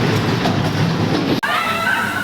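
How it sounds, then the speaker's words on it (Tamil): A Paris metro line 8 train arrives with a loud rolling rumble; the sound cuts abruptly partway through to a quieter stretch with thin, squealing wheel tones. "இதுதான் இந்த மெட்ரோ, 8ஆம் நம்பர் மெட்ரோ. இதோ வந்து விட்டது."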